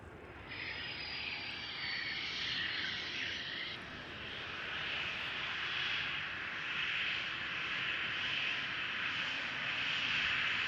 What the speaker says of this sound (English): I can already hear the Embraer spooling up,